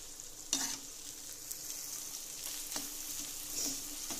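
Chopped ginger and garlic fry gently in a pan with a soft, steady sizzle and occasional light scrapes of a stirring spoon.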